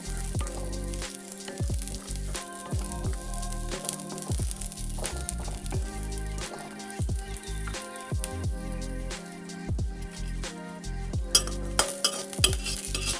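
Char magaj melon seeds fry in a pan for semai, a faint sizzle under repeated knocks and scrapes of a spatula stirring the seeds in an uneven rhythm.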